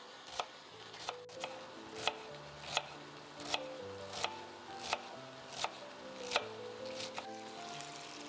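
A knife chops finely through a medium-sized onion on a board in steady, evenly spaced strikes, about a dozen close, crisp cuts, with faint kitchen sounds behind.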